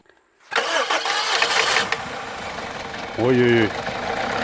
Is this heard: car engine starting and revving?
yes